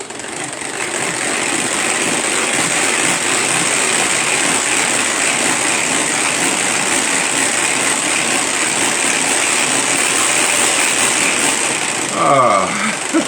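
Kitchen mixer running at speed 1, blending a cornstarch mixture: a steady motor whir that holds evenly for most of the time before a brief clatter near the end.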